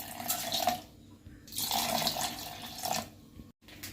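Ice water pours into a large mixer jar in two or three gushing bursts separated by short pauses, close and moderately loud, ending with a brief clunk.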